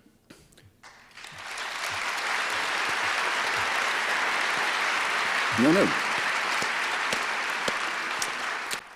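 Debate audience breaking into applause, dense clapping swelling after a brief spoken exchange and sustained for several seconds; a short voice cuts through midway.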